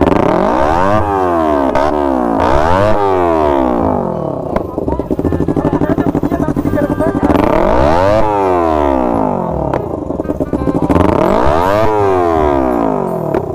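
Motorcycle engine revved hard and repeatedly, with loud rising and falling throttle blips in waves and a steady high idle between bursts, close by.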